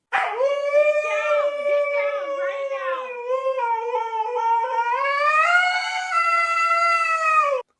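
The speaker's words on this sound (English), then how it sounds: "we have video of one of Paul's pups, serenading him" A husky pup howls in one long, wavering, tuneful cry that rises and falls in pitch, loud and close and heard alone.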